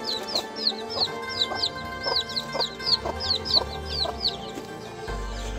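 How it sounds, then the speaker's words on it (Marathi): In a backyard kitchen garden in a Konkan village near Ratnagiri, a chicken clucks in a steady stream of short calls, roughly two per second, at moderate distance over a faint outdoor background. "हे बघा कोंबडी"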